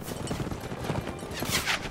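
Quick clattering hoofbeats of horses in motion in Mount & Blade: Warband, a busy, slightly muffled galloping rhythm with scattered battle-like noise.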